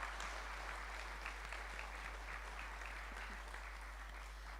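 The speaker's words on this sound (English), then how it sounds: "Round of applause, please." Applause at a school sports and cultural prizegiving, steady clapping from a large audience, faint and continuous throughout.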